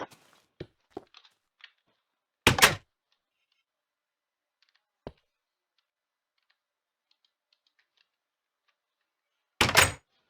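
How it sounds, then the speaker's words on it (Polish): In the Minecraft 1.0 video game, a lever opening a door gives two sharp, loud clacking bursts several seconds apart, separated by faint scattered ticks and clicks in near silence. "taka dźwignia, żeby otworzyć drzwi"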